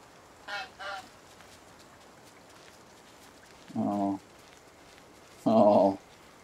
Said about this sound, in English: I see the goose right there.